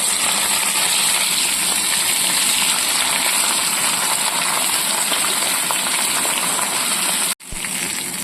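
Pieces of khoira fish frying in hot oil, a steady dense sizzle and crackle running close and loud throughout, cut by a brief drop near the end.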